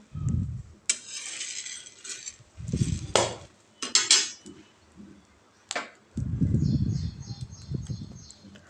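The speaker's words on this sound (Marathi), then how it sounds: "तर अशा प्रकारे आपल्याला सतत हलवत राहायचं आहे आणि छान असं भाजून घ्यायचं आहे" Sabudana (tapioca pearls) roasting dry in a pan for a Navratri fasting dish, stirred with a metal spoon in repeated scraping bursts with rattling pearls and clinks between short pauses.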